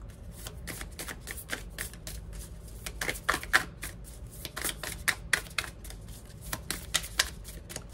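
Stiff tarot cards being shuffled by hand, a run of quick papery riffles and flicks in uneven bursts, close and fairly quiet, with no talking.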